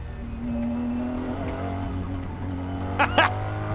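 A Ferrari race car laps the Nurburgring with a steady engine drone and shifting tones, then two quick sharp tire chirps near the end, heard from the cockpit with no talk.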